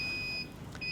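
Navigation units on a ship bridge, in alarm state, sound steady high electronic beeps that stop briefly and then start again.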